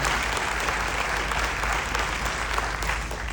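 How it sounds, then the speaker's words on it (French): Sustained applause from an audience honoring Thierry at an excursion gathering, dense steady clapping at even loudness throughout with no voices rising above it. "Un grand applaudissement à M. Thierry."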